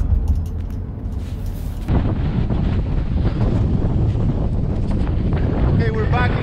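Strong wind buffets the microphone on a cold, rainy northern coast, a loud steady roar with gusty swells throughout and a brief voice near the end.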